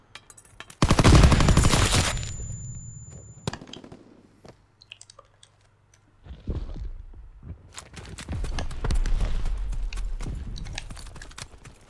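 Gunfire in a World War II video game: a loud, dense burst of rapid shots up close, then a single sharp crack, followed by quieter clatter and a rumbling stretch of battle noise.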